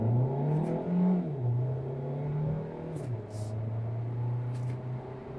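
Hyundai Elantra accelerating hard toward highway speed in sport or manual mode, engine note climbing through gear shifts with a drop and rise between them, close and loud inside the cabin.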